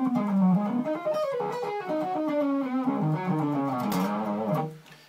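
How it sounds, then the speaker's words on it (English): A slow rock fusion lick on a heavily distorted electric guitar, sustained notes gliding and bending through a continuous phrase that fades out at the end, played alone. "So the lick in its entirety at a slower speed sounds something like this."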